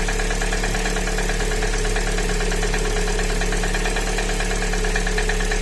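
An MG 550 engine runs under load in gear with a knocking piston, giving a loud, steady, close mechanical drone with a continuous rapid rhythmic tapping throughout.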